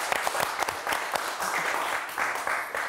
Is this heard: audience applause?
yes